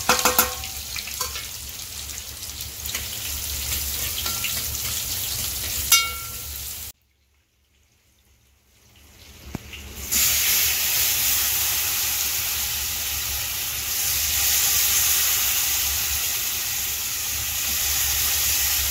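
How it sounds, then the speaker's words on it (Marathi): Bangda fish frying in masala beside fish ukad cooking on a home gas stove, giving a steady loud sizzle and hiss that drops out briefly before returning just as strongly. "दोन्ही ठिकाणी आपल्या गॅसवर मच्छी चालू आहे, इथे होते उकड आणि त्या साईडला बांगडा फ्राय"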